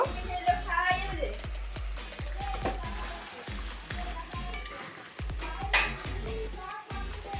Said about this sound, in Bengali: এর উপর আমি ভেজে রাখা আলুগুলো তুলে দিলাম কষা মাংসের উপরে দিয়ে আমি একটু নেড়ে চেড়ে নেব